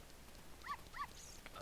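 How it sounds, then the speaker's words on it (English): Two short, faint dog barks about a third of a second apart in the Ocarina of Time video game, small and thin over a low hiss. "Watch out for this doggy landmine."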